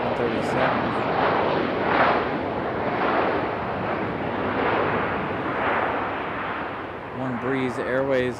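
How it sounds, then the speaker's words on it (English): A Breeze Airways jet rolls for takeoff at Raleigh-Durham, a loud, surging roar with pulsing swells that carries throughout, while a voice talks near the end. "One Breeze Airways on the roll"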